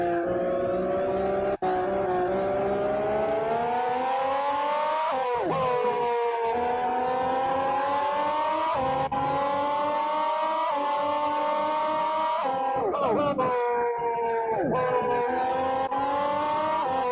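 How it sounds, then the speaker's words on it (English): A Formula One car in the Grand Prix 2 racing game running through the gravel trap at the 1991 Belgian Grand Prix: a loud, continuous high-pitched engine whine that sweeps up and down with gear changes, steady and close for the whole stretch. "That's a car in the gravel."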